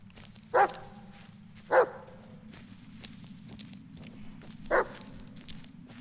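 A dog in the Blair Witch video game barks three times at spaced intervals, short sharp barks over a steady low ambient hum, with faint footsteps between them.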